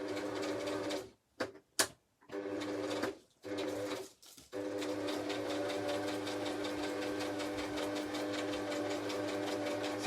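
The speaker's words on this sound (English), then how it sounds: "I'm just going to do a bit of sewing" A sewing machine stitches in a fast, steady mechanical patter, stopping briefly a few times early on before running continuously, close and moderately quiet.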